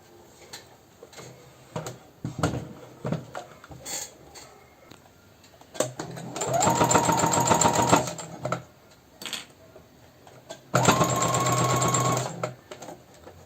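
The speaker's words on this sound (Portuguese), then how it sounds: "E vou fazer uma costura de fora a fora, da pontinha a pontinha. Uma costura reta." A sewing machine stitches a straight seam across baby slipper fabric in two sustained whirring bursts of rapid needle chatter, separated by quieter clicks and handling of the fabric; no voices.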